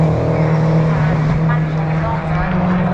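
Race car on a flying qualifying lap at Cadwell Park during a time attack round, a steady loud engine drone holding a sustained tone for the whole stretch, with voices talking over it.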